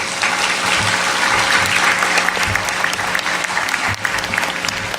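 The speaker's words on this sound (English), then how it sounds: "Let's welcome Clint with a big, warm applause" An audience at a 2008 indoor concert event in Fountain Valley, California, gives loud, sustained applause to welcome a performer, a steady dense clapping with faint crowd murmur.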